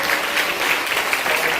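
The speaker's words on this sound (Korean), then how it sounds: "반동성애 교단연합 박수 한번 쳐주세요." Audience at a Korean National Assembly forum on anti-discrimination legislation applauds for an anti-homosexuality denominational coalition, a dense, steady wash of many hands clapping close by, filling the whole moment without voices.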